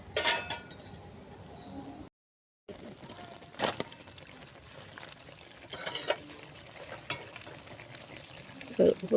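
Cauliflower curry cooking in a pot, a faint bubbling hiss broken by clinks and scrapes of a spoon against the metal, with a brief gap of silence partway through.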